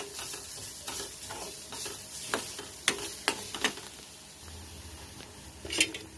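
Coriander powder, chili powder and salt being stirred into frying masala gajji kayalu in a pan: quiet scraping and a few sharper taps of the spoon against the pan over a soft, steady sizzle, with no voices.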